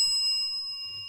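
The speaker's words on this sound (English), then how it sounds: "I got to hit my cussing bell" A small bell rings with a sustained ding, its tone holding steady at moderate loudness and slowly decaying through the moment, with faint low rumble beneath.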